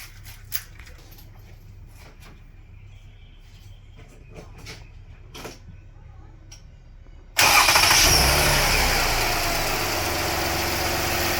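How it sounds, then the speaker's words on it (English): After a quiet stretch with faint clicks and shuffling, a 2005 Lexus ES330 engine cranks on a newly replaced starter and catches abruptly, settling into a steady, loud idle. "So we're going to start the car."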